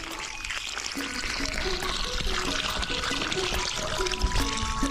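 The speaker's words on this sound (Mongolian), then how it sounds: "нүхээ булсны дараа усалж эхлэв" Water is poured onto red sand around a newly planted tree, a continuous gurgling splash and trickle close by, with faint voices and background noise underneath.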